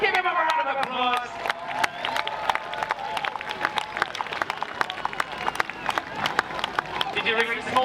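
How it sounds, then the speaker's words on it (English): Crowd applause and cheering at an outdoor steam fair contest, dense sustained clapping from many hands with a voice speaking over it near the start and end. "Give him a round of applause"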